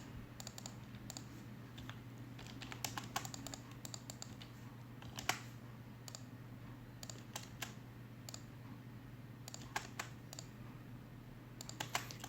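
Computer keyboard keys clicking in irregular bursts of typing while drafting a 2D house plan in AutoCAD, fairly close against a steady low electrical hum, with scattered single keystrokes and short quick runs.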